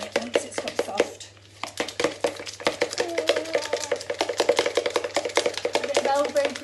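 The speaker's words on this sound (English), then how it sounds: "just keep squashing it until it gets really soft and really creamy" Butter and sugar being squashed and stirred in a bowl during a primary school cooking session, rapid repeated taps and scrapes of a utensil against the bowl, close and steady, with a person talking over much of it.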